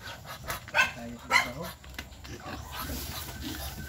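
A dog kept near pigs gives two sharp barks close by, with one following the other. Voices talk over the barking, and a low background of animals and people continues after it.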